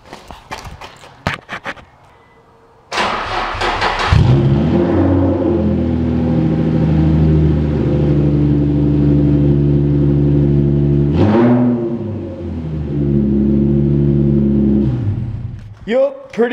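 An Infiniti G35 engine with the mid pipe and muffler removed, idling loud and raw, then revving hard, dipping, and revving again in a sustained deep roar, with brief clanks before it starts.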